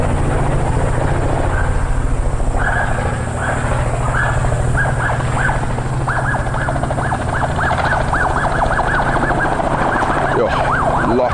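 A helicopter's loud rotor thrum carries throughout while the helicopter's warbling alarm siren hoots repeatedly over it, rising and falling in quick cycles, as painted wild dogs are driven toward a boma.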